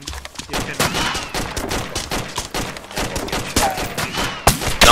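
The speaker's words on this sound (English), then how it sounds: "You're getting shot at. That's coming from the northwest." Rapid gunfire in a tactical shooter game, loud irregular bursts of shots and cracks close by, with occasional brief lulls between volleys.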